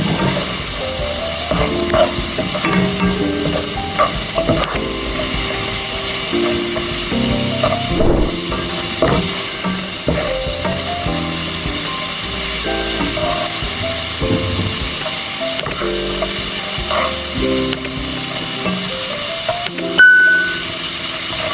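Purple chicken fried rice stir-fried in a pan, a steady loud sizzle with repeated scraping and tapping of the spatula against the pan in an uneven rhythm.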